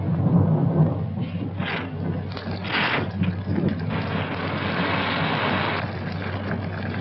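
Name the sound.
storm wind outside, from a 1942 film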